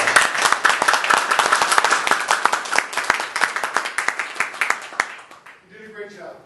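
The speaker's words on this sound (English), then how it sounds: "let's give yourselves a round of applause" A small group claps in sharp, distinct strikes that thin out and fade after about five seconds, followed by a brief voice as the applause ends.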